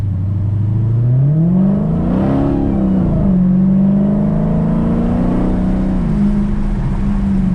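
A 2020 Dodge Challenger Hellcat revs hard while being driven, its engine droning loud and close inside the cabin, rising in pitch, settling, then climbing again as the transmission shifts, with nobody speaking.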